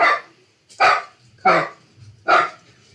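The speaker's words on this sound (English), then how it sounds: "The dog is going to go crazy." A dog barks four times in a steady rhythm, loud and close, with a short pause between each bark.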